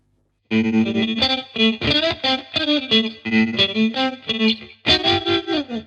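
An electric guitar riff runs through a Zander Circuitry Junipero modulation pedal set to ring modulation, giving loud, glitchy, metallic chopped notes in short repeated phrases with no talk.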